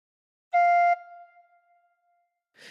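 One gently blown tin whistle note with fingers 1 to 3 covering the holes, a clear steady tone lasting under half a second that rings away softly, followed by a short breathy noise.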